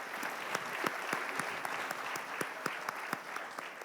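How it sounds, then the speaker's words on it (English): Applause from a concert audience for the parents before a solo vocal concert, a soft but steady patter of many hands with distinct sharp claps standing out, continuous throughout. "So big round of applause to all of you first."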